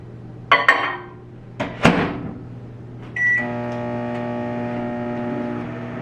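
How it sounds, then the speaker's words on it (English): A kitchen microwave oven is loaded and started: a door thump and a couple of sharp button beeps or clunks, then the oven's steady electric hum with a constant tonal drone that runs on evenly. "I'm going to put this in the microwave, and I'm going to set it on 2 minutes."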